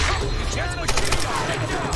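Rapid machine gun fire in the Tomb Raider video game, a dense, loud and continuous barrage lasting the whole moment with no breaks and no talk.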